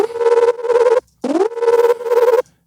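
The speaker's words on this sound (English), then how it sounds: "if you hear that tinniness in the top end, that's all from the downsample right here" A downsampled tech house synth with a ringy, tinny top end plays loud, buzzy sustained notes in short repeated phrases with a brief pitch-bending swoop after a pause, alone without voices.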